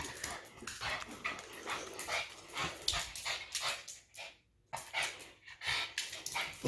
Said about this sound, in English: Goofy dog.